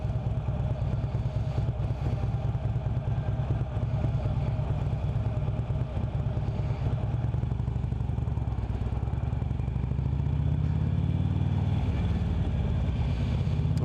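Harley-Davidson Road Glide Ultra with a Twin Cam 103 engine, a pre-Milwaukee 8 touring motorcycle, rumbling along with a deep, steady, loping exhaust throb, close and continuous with rising road and wind noise toward the end.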